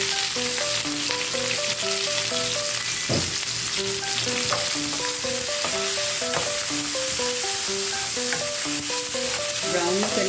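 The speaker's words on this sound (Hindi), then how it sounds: "अब हम ये इसके अंदर प्याज ऐड कर देंगे, इसको फ्राई कर लेंगे।" Onions fry in a pan for karela keema with a steady, close, dense sizzle that lasts throughout, with an occasional stir of a utensil and background music playing underneath.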